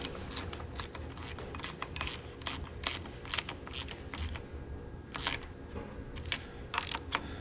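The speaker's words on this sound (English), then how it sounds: "I need to get a 5/16 wrench to tighten those babies up" A 5/16 wrench tightens the bolts on a 310 injection pump, giving a steady run of close, quick ratcheting clicks and small metallic ticks over a dense background of mechanical noise.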